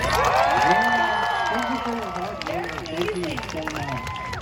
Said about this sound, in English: can everybody please give our talent a round of applause?